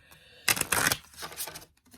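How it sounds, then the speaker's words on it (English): Tarot cards being given a quick shuffle, a burst of crisp riffling and flicking papery clatter lasting about a second, then a few softer card slaps before a brief quiet. "I'm just going to do a quick little shuffle here"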